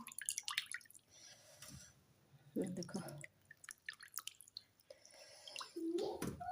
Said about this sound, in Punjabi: ਸਾਰਾ ਇਸ ਦਾ ਪਾਣੀ ਜਿਹੜਾ ਹੈਗਾ ਉਹ ਨਿਚੋੜ ਕੇ